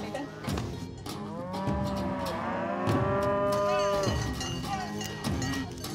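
Cattle on an alpine pasture in the Grisons mountains, with long, low moos overlapping from several cows, loud and fairly close, over a steady outdoor background and some voices.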